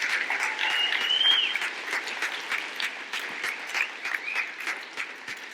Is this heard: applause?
yes